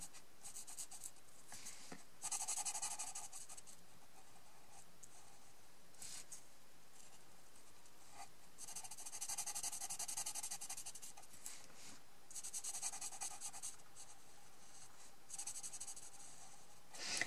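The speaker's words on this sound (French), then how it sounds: "je vais commencer à colorier" A fine-tipped peel-off marker colouring in a card, heard as soft, close scratchy strokes in repeated bursts against quiet background hiss, with no talk.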